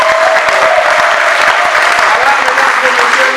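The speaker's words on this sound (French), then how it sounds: "on applaudit très fort." Wedding guests at a town hall ceremony applaud loudly and continuously, a close, dense roar of clapping with crowd noise and no pauses.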